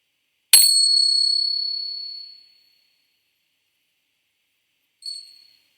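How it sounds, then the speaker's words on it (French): A single bright bell strike rings out and slowly fades over a couple of seconds, followed after a pause by a softer, shorter second ring. "j'espère que les cloches ont été entendues"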